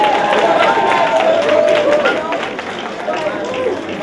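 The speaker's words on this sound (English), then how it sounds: "Let's have a big round of applause for them." A pageant audience gives a big round of applause for the Queens Coalition members, dense sustained clapping from a crowd with a voice over the clapping.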